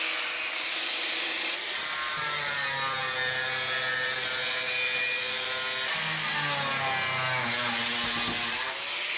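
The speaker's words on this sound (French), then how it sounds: "On prend la meuleuse." Angle grinder cutting into the metal body of a Peugeot 106 during a BMW drivetrain swap, a loud continuous whine with shifting pitch and grinding bursts, close up with no talking.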